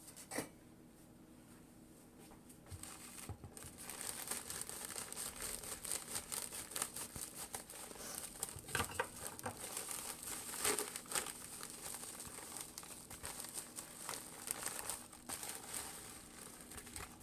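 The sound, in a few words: opening packages, packaging crinkling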